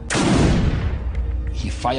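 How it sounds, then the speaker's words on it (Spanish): A single gunshot fired into the air: a loud, close blast with a long, rolling decay. Voices come in near the end. "Disparó una bala al aire y me hizo valiente"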